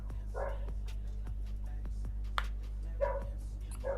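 A dog barks in short, sharp bursts over a steady low hum, with a few louder yelps standing out near the end at moderate distance.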